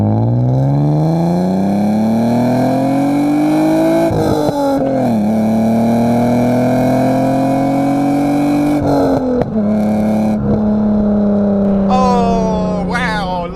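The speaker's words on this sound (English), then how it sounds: "Now let's do a little pull through the gears." An Alfa Romeo GTV6 with the Busso V6 accelerates hard through the gears, its revs climbing in a loud rising howl, dropping briefly at each shift, then climbing again, with a voice breaking in near the end.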